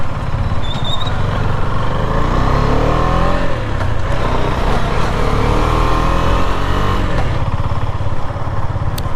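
A Husqvarna Svartpilen 250 single-cylinder motorcycle accelerates through the gears, engine droning loud and close with rising and dropping pitch at each shift over steady wind rush.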